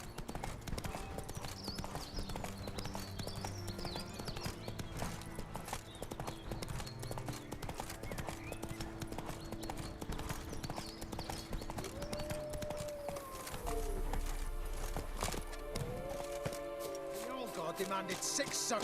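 Horse hooves clip-clop steadily in The Witcher 3 on PS4, a continuous rhythmic trotting under game music and voices, with someone talking over it now and then.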